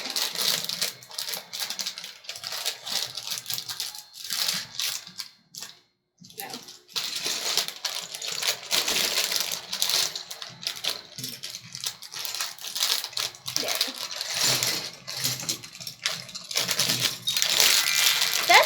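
LEGO Creator 31100 Red Mobile pieces from several opened bags are stirred together, giving dense plastic clattering and rattling that runs almost throughout with one brief pause, close and fairly loud.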